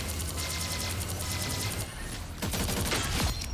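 Ultron firing his nano ray in a video game: a dense, continuous burst of rapid energy-weapon fire, loud and sustained, with a brief lull before a harsher crackling stretch, no talk.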